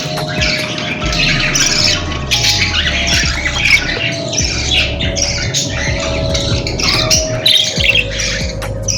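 Newly hatched chicks on a bird farm, a dense, continuous chorus of loud, close chirps and squawks with a low steady hum underneath.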